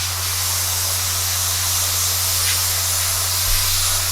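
Thinned paint sprayed through an airbrush onto a Revell 1/32 He111 model kit, a loud continuous close hiss over a low steady compressor hum, with no talk.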